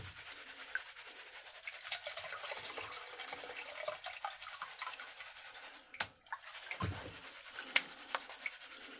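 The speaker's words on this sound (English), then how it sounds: "make sure you keep stratifying and getting the gold towards the bottom of the pan, catching it in the grooves so it don't come out" Water sloshes and swirls in a gold pan as gravel and sediment are worked toward the bottom, with soft rubbing, scraping and dripping sounds close by at low volume and a brief pause partway through.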